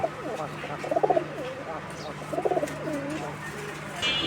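Madrasi Golla pigeons cooing close by in two rolling bursts, the throaty calls separated by a short pause, with low background hum and faint movement noise.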